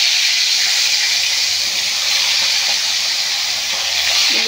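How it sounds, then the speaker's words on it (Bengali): Hilsa fish pieces frying in hot oil give a loud, dense, unbroken hiss that holds steady from start to finish, close by with no voices. "তেলটা আমার গরম হয়ে গেছে জানেন বন্ধুরা। মাছটা আমি ভেজে নেব।"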